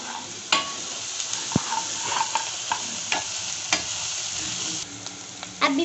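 Spinach stirred in a pan with sesame seeds and chillies in hot oil gives a steady close sizzle, broken by scraping stirs and occasional sharp clinks of the spoon against the pan.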